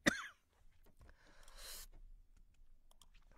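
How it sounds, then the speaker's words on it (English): A single sharp cough bursts out at the start, close and brief, followed by quiet breathy rustling and faint small clicks in an otherwise hushed room. "I was holding that cough in."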